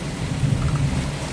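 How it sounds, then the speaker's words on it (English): Steady rain with a low rumble of thunder, loud and close, continuous with no voices, falling over a garden plot. "It did start raining, which is good."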